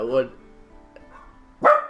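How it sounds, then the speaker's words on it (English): An indoor pet dog gives two close barks, one at the outset and a louder one near the end, with a faint hush between them. "Yes, I know you're barking."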